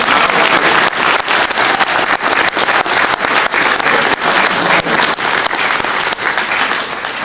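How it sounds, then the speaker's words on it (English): A room gives a round of applause for Albany State students from Columbus, with dense clapping throughout and a few louder individual claps standing out near the listener. "Now I want y'all to give him a round of applause"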